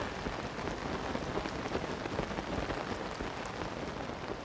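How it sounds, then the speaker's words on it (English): Constant rain falls in a lightning-filled stormy area of the video game The Legend of Zelda: Tears of the Kingdom. It is a dense, even hiss of heavy rainfall with no clear thunderclap, and no one speaks. "it's just constant rain and lightning"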